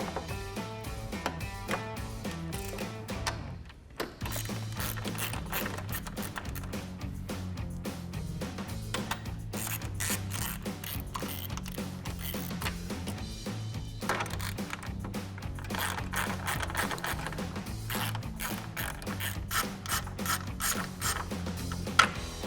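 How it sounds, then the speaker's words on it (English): A hand ratchet with a 10mm socket backs out headlight bolts on a 2018-2020 Ford F-150, giving close, repeated bursts of sharp pawl clicking with brief pauses between strokes. "So we'll use our trim removal tool to remove the plastic push pin and our 10mm socket to remove"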